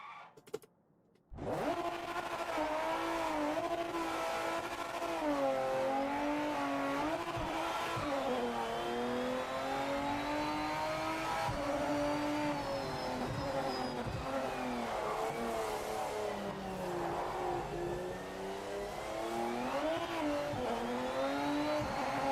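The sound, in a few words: race car driving in video game Project Motor Racing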